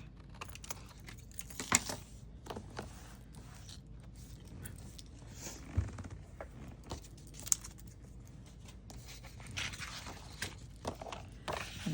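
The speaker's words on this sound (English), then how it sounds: "I'm going to miter there on a 1/2." Paper being mitered at the half-inch mark on a scoring board while making a Botanical Buzz album, heard as a string of soft, close clicks and scrapes with a few sharper taps, quiet and intermittent with no talking.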